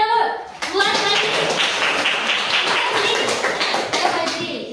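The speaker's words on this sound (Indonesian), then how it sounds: "boleh kasih tepuk tangan dulu buat Haji" Classroom applause for a student: a voice gives way to a burst of clapping from pupils, quick and fairly close, sustained for several seconds with some talking mixed in.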